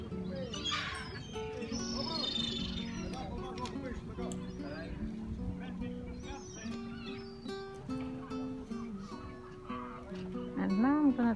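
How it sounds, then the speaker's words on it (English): Seagulls call while being fed at a fishing beach beside fishermen's cottages in Armação de Pêra, Algarve, Portugal, with scattered squawks heard under a person talking throughout. "Oh, he's feeding the seagulls."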